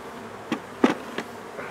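Honeybees fly around a hive entrance on a warm day, with a few close buzzing passes rising and fading over faint background hum.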